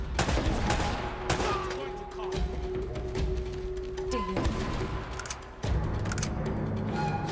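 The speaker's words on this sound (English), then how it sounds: "That's a shotgun, we don't want a" Shotgun blasts in Uncharted: Drake's Fortune ring out as a series of loud, sharp reports spread across several seconds amid game combat noise, with a player talking faintly underneath.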